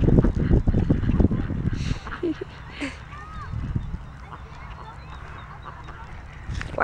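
Ducks at a lake give a few short honking quacks partway through, mostly quiet and set back, while people talk over the start of the scene.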